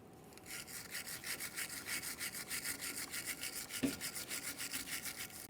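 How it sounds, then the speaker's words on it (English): A wire brush scrubs the mounting surface of a rear brake caliper bracket on a 2017-2024 GMC Acadia, producing fast, even, rhythmic back-and-forth rasping strokes close up, with one brief metallic knock partway through. "To clean these, You can use a wire brush or some sandpaper."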